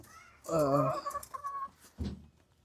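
Pullet chickens on a breeding farm give a few short, close clucks and a brief squawk, with quiet pauses in between.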